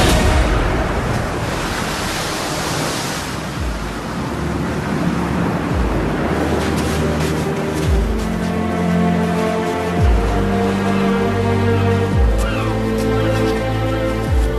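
Open-ocean waves and surf roll and wash continuously, a dense, loud roar of water with steady swells and no voices, evoking a boat's passage across an empty sea toward the southern tip of Africa.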